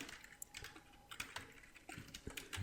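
Fingers type on a computer keyboard in quick irregular bursts of soft clicks while writing JavaScript code, close and quiet with brief pauses between keystrokes.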